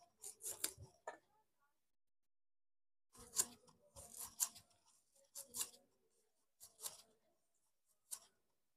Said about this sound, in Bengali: পেঁয়াজ কেটে নেব।